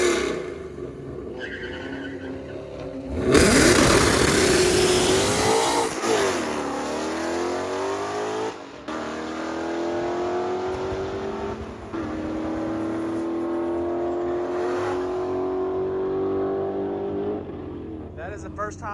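A supercharged Audi S5 roars up to speed with a sudden loud burst, then pulls hard through rising gear tones with supercharger whine, nearby and strong, while a voice speaks over it.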